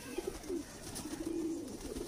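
Salara teddy pigeons from a bred bloodline coo close by, a series of low, throaty rolling calls in short bursts and one longer burr, with no talking.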